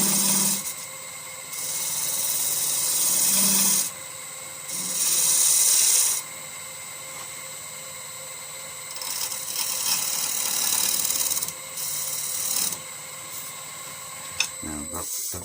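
A woodturning lathe tool takes a light cleaning cut on a spinning Balinese teak vase, a rasping scrape that comes and goes in several bursts over a steady motor hum.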